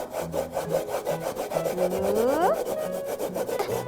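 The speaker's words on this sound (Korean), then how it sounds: "당근을 잡고 한번 강판을 걸어볼까요?" A carrot scrapes against a spiky vegetable grater in quick, rhythmic rubbing strokes. Over it plays a soft musical melody with a rising, sliding tone.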